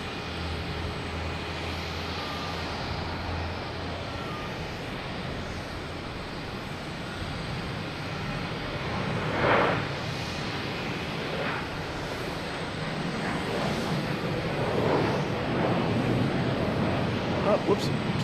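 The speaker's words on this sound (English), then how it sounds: "next taking off, we have Air Canada. Heading to Toronto, E175, flight" An Air Canada Embraer E175 jet taking off from Boston Logan for Toronto, a low, moderately faint engine rumble that builds slightly toward the end, with scattered bursts of nearby talk over it.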